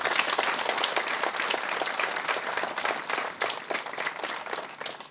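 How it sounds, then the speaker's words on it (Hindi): A church crowd at the Feast of St Vincent de Paul in Murhu applauds to welcome Father Sanjay Tirkey: dense, sustained clapping from many hands, fairly close and steady for about five seconds, with no talk over it. "अपने तालियों की गड़गड़ाहट से हम उसको शुभकामनाएं दें"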